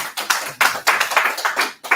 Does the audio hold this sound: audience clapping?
yes